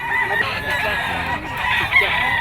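Hatch gray green-legged bull stag rooster crowing at a market seller's pen, a crow set among clucking and background chatter.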